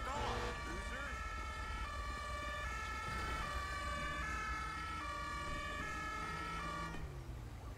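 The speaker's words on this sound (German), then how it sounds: "Macht eure Sirenen aus" Ambulance sirens in a video game wail continuously and loudly with a steady, repeating two-tone pattern over engine rumble, cutting off near the end.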